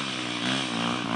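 On a trail climb, a dirt bike engine revs hard, making a loud, buzzing, continuous roar that stays close for the whole short burst.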